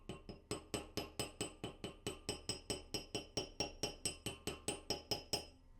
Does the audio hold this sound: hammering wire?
yes